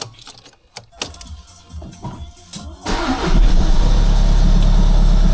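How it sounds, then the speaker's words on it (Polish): A VW Golf 7 1.6 TDI CLHA diesel engine starts cleanly after some nearby handling noises, then settles into a loud, steady idle close to the listener. "Słuchajcie, odpalam i patrzymy co się dzieje."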